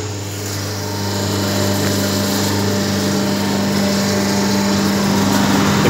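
A paper plate making machine's electric motor runs nearby with a steady loud hum and whine that builds slightly at the start and then holds constant, with no voices.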